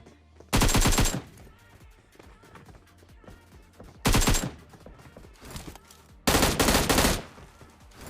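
Three loud bursts of automatic gunfire in a battle royale video game, each lasting under a second, separated by quieter stretches of faint game noise and footsteps.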